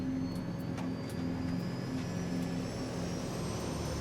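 Steady, continuous drone of a Saab 340 twin-engine turboprop commuter airplane at takeoff power, with a low engine hum and tonal whine holding at constant loudness throughout, no voices.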